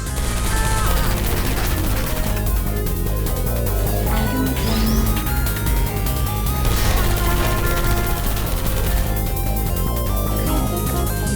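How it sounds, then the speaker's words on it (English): Bursts of gunfire in the video game Portal 2 crackle over a loud, dense soundtrack of music and effects, continuous throughout. "I heard gunfire!"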